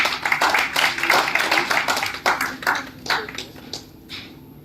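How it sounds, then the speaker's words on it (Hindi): An audience at an Indian movers association awards ceremony claps to welcome a guest on stage: dense, lively clapping that thins into scattered claps and fades near the end. "एक जोरदार तालियां हो जाए।"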